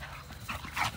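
Several dogs on a homestead give short, excited yips and barks, with a louder burst near the end over a steady background.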